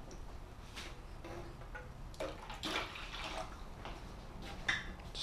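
Hot water trickling and splashing into a vessel during a home brew of English pale ale, faint and close with irregular drips and ticks, no voices.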